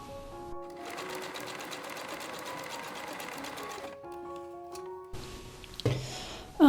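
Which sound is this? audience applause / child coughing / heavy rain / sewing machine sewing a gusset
sewing machine sewing a gusset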